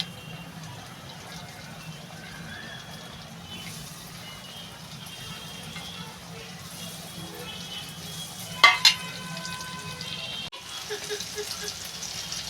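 Small snacks of potato, semolina and cheese frying in hot oil, a low, continuous sizzle with a couple of sharp clinks and scrapes near the end as pieces are moved around.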